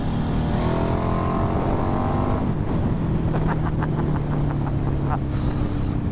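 A 2008 KTM RC8 motorcycle with its LC8 engine, the rider blipping the throttle by hand, loud close engine revs rising and falling over steady road noise, with someone talking over it.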